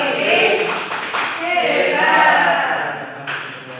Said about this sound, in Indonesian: Kita kasih tepuk hebat lagi. Tepuk kanan.